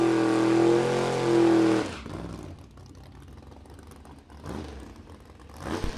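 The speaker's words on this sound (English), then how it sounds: "a 1986 Chevrolet Monte Carlo Super Sport Pro Charged 565 big block Chevy in the right-hand side" A 1986 Chevrolet Monte Carlo Super Sport drag car with a ProCharged 565 big block Chevy, a loud harmonic engine drone for two seconds that drops away into distant rumble and roar at an index racing event.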